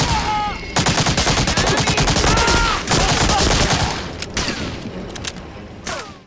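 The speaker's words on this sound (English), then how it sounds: "MP40 comes with a sonorous thud and screaming finish." MP40 submachine gun fire in the World War II shooter Medal of Honor: Allied Assault, loud rapid bursts of automatic shots with a heavy thud and ringing tail, broken by short pauses and single shots.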